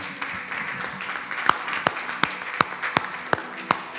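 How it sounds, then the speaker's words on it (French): A church congregation claps in praise of the Lord: a run of sharp, fairly regular claps, about eight of them, over soft room noise and no speech. "Let's clap for the Lord."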